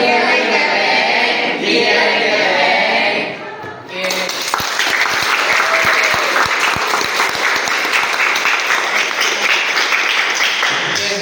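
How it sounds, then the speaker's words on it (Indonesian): A high school class, 11 MIPA 3, performs a rhythmic spirit clap in the classroom, a burst of crowd noise giving way to a steady run of loud, evenly spaced group claps that fill the room. "Tepuk semangat."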